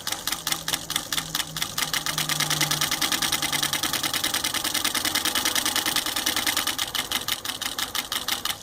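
Pfaff 483 single-needle sewing machine stitching through a terry cloth towel, a steady rapid mechanical chatter running evenly and close for the whole stretch, with a faint low hum underneath.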